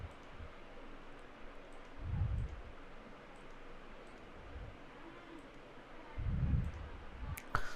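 Computer mouse clicks during a software install, a few faint, sparse low thumps spaced seconds apart over quiet room hiss, ending with a sharper tick.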